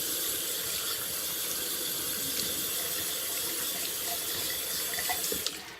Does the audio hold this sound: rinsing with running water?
yes